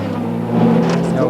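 A Schnitzer team race car engine roars loudly and steadily at the 1995 Spa 24 Hours, rising slightly in pitch as it pulls out of the pit, with a faint voice underneath.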